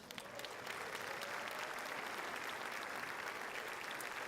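A crowd claps steadily and evenly for the mayor at a State of the City address, a dense continuous wash of hands with no voices over it.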